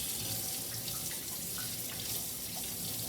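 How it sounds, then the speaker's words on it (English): Tap water runs steadily into a kitchen sink for hand washing with soap, a constant close splashing rush with no voices. "next you wash your hands with soap and water"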